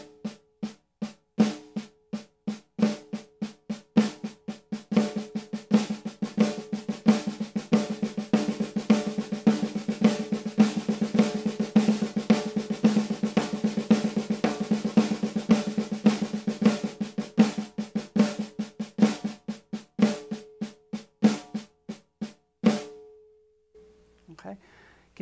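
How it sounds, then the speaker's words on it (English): A drum plays the single flammed mill rudiment, repeating a quick, even pattern of flammed strokes with accents that speed up and hold steady for about twenty seconds before stopping. "This was the single flammed mill."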